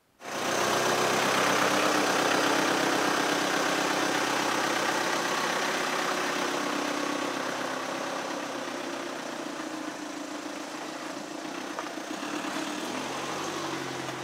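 A VW Jetta engine idles steadily at close range, a continuous broad rumble and whir that holds fairly even for about fourteen seconds with no one talking.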